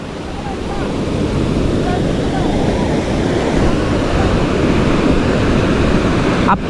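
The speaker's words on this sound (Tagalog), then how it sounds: "Ayan ang alon oh, laki." Big ocean waves pound a river mouth in a constant, dense roar of surf, wind rumbling across the microphone throughout, close and loud.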